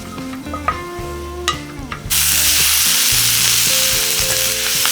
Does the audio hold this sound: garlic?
yes